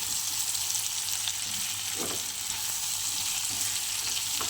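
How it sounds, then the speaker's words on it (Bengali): Small shrimp sautéing in a pan give a loud, continuous hiss and crackle of hot oil, with a brief stir partway through and no voices. "এবার সুন্দর করে আমি একটু কষিয়ে নেব। ছোট ছোট চিংড়ি মাছ, বেশি বড় চিংড়ি মাছ নয়।"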